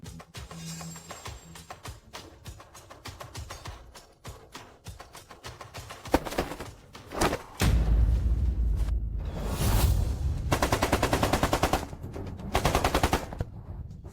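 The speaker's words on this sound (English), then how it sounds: "Missiles strike, artillery blasts, tanks charge while everything burns." War sound effects of artillery and gunfire: rapid bursts of machine-gun-like shots give way to heavy booming blasts and rolling rumbles, dense and loud with sweeping whooshes between volleys.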